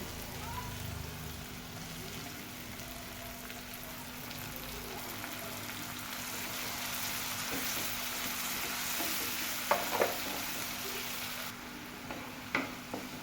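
Tomato and ground masala frying in a pan, a continuous rain-like sizzle close up with a few spoon clinks and scrapes near the end, alone with no talk.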